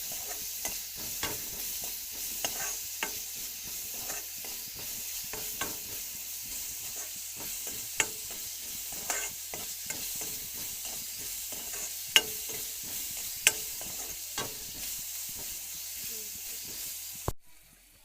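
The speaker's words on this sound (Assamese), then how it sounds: "পিঁয়াজখিনি অলপ ভজা হোৱাৰ পাছত দি দিছোঁ কেঁচা জলকীয়া এটা আৰু আলু। এতিয়া এইখিনি ভালদৰে মিক্স কৰি ভাজি ল'ম।" Onion, green chilli and potato fry in a pan with a soft steady sizzle, while a utensil scrapes and taps against the pan in irregular stirring strokes. There is no talking.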